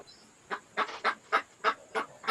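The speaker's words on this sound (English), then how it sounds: "I can hear them ducks." Fowl calling nearby, heard as seven honking quacks in a fairly even rhythm, each one loud and clear over a quiet background with no talking.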